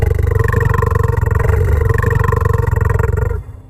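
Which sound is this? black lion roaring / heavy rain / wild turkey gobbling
black lion roaring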